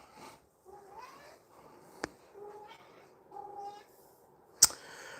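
A rescue cat gives several soft, separate meows indoors, short rising calls spaced across a quiet room, with two sharp clicks between them.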